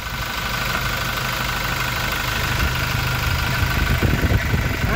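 Toyota Innova Reborn diesel engine idling with the oil filler cap open, a steady close rumble carrying a faint repetitive knock throughout.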